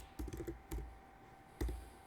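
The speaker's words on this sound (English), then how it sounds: "I type my code here and use keystrokes to run it in the main window here." Soft, close clicks of typing on a MacBook keyboard come in short bursts, a few quick keystrokes followed by pauses and a final isolated tap, quiet with no talking.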